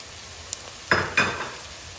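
Onions and peppers sautéing in hot oil for a Turkish beef sauté, with a faint sizzle and two short bursts of scraping as a spoon stirs the pan, close and moderately quiet.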